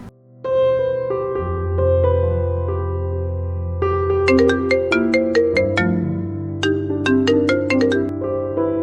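A film's phone ringtone for an incoming call plays loudly and alone, a sustained melodic tune with repeating bright chime notes layered over a steady low tone.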